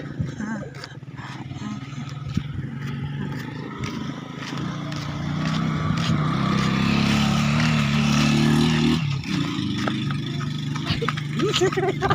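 A motorcycle engine idles and revs in a steady low drone that swells louder toward the middle, under frequent nearby conversation and a few sharp background knocks.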